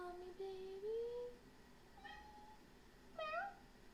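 A cat meows several times indoors, a longer rising meow followed by two shorter, fainter calls spaced apart, close and clear against a quiet background.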